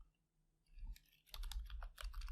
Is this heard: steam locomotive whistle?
no